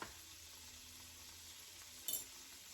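Butter sizzling and browning in a pan for stuffed salmon, a soft steady frying hiss with a brief louder crackle near the end.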